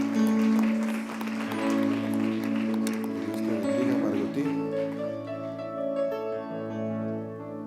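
A church congregation claps during a service, a patter of applause strongest at first and fading out, with sustained keyboard music playing underneath.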